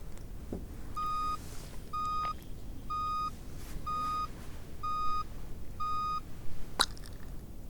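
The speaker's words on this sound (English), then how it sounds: "count the total number of beeps that you hear" Six short electronic beeps sound at an even pace, each a clear mid-pitched tone, over faint background rumble with no talking.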